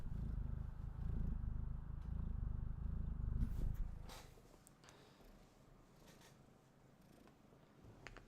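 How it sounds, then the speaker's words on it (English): A cat purrs in a soft, low rumbling drone, close by, for several seconds before fading into quiet handling noises. "You can hear him purr."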